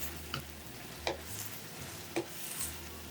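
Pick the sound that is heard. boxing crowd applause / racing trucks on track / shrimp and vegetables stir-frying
shrimp and vegetables stir-frying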